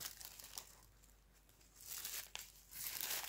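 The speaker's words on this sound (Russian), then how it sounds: "вы можете взять пакет для заморозки, вот такой." A plastic freezer bag is handled close by: soft crinkling and rustling in short, irregular bursts, quiet and with no talking.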